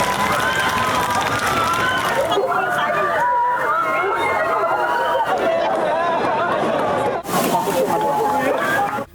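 A dense crowd in the Supreme Court courtyard in Manila crying, shouting and cheering, a loud continuous roar of many voices with rising yells and no pauses.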